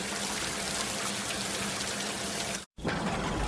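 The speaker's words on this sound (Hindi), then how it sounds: "अब बारिश वाकई बहुत तेज हो चुकी थी।" Heavy rain pouring steadily in a village at night, a dense continuous hiss of falling drops that cuts out completely for a moment near the end before returning.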